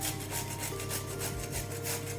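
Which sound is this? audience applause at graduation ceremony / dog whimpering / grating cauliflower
grating cauliflower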